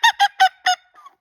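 A latex bird call blown in four quick, loud honking bursts like a duck or goose call, followed by a fainter trailing squeak, with no talking.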